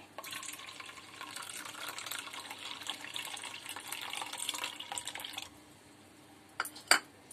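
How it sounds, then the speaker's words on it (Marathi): Kokum water pours into a bowl for Malvani solkadhi, a steady liquid splash for about five seconds, followed by a couple of sharp clinks of a utensil, with no talk. "हे कोकमाचं पाणी टाकणार आहे।"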